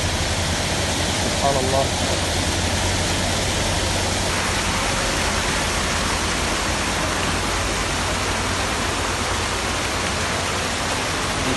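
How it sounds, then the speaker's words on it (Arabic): Water streams running down rock inside an underground cave in Saudi Arabia make a steady, dense rushing hiss throughout, with a voice speaking briefly near the start. "دي شيب المية، مجاري المية اللي نازلة من الحجر"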